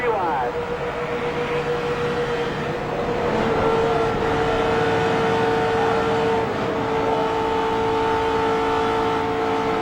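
A NASCAR race car at the 2005 Aaron's 499 drones steadily from Dale Earnhardt Jr.'s onboard camera, a loud sustained engine tone with a shifting pitch partway through and a rushing roar beneath it.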